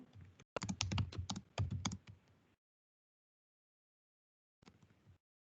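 Quick typing on a computer keyboard while writing HTML code: a dense run of close, crisp key clicks for about two seconds, then silence, then a brief final burst of keystrokes.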